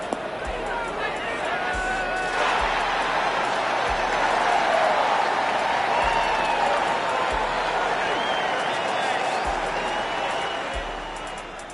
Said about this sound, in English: You don't need much to fire up this crowd,